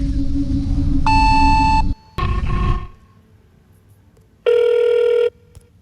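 A voicemail line sequence plays: a sustained ring tone, a short burst of tones, then a quiet pause before a single long electronic answering beep.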